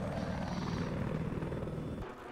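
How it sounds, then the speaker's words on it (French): A helicopter in the video game Battlefield 4 roars steadily with a throbbing rotor drone, loud and close throughout, tapering slightly at the end with no talking. "Et l'hélico qui vient de spawner sur le drapeau C"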